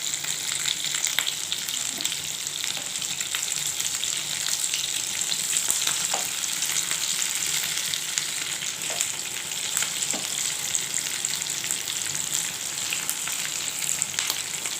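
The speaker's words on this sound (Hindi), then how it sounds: "इसको अच्छी तरह फ्राई करेंगे और फिर हम इसकी दूसरी साइड को पलट देंगे" Shami kebabs fry in hot oil with a continuous bright sizzle and fine crackling spatter, close and steady throughout with no voices.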